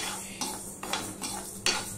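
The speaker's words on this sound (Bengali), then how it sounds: "গরম কড়াইতে আমি আরেকটু নেড়ে নিচ্ছি" A spatula scrapes moong dal around a hot kadai after the gas is switched off. Three or four quiet, close scraping strokes sit over a faint low hum.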